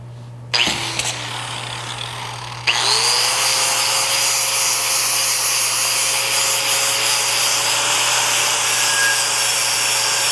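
A flap sander wheel grinding old lathe parts down toward bare metal: a brief burst, then the tool spins up into a steady, loud whirring rasp that holds to the end, with a constant motor hum underneath.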